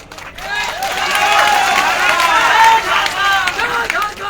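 A large crowd at an outdoor political rally in Jharkhand breaks into dense, sustained clapping that swells to a loud roar and stays full throughout, with cheering voices and a speaker's shouts rising through it.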